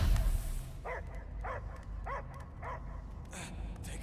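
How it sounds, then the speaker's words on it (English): Dog barking in the Guardians of the Galaxy video game: a series of five or so evenly spaced barks over a low rumbling game soundscape, moderately loud and unaccompanied by speech. "I hear only barking."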